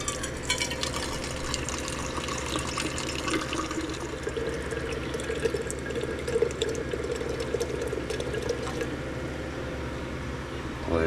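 Tap water runs steadily into a cooking pot at a kitchen sink, a continuous close splashing and filling sound that holds through the whole stretch, with faint movement noises alongside.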